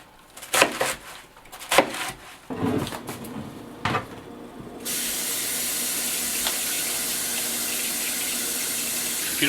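Tap water runs into a kitchen sink while cabbage is washed for kimchi; several brief splashes and handling knocks come first, then a steady, fairly close stream of running water continues alone.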